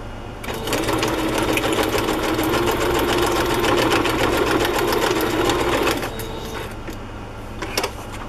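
A sewing machine stitches a fabric rabbit onto a garden binder journal in a steady, fast, loud run for several seconds, then slows and stops with a few final clicks.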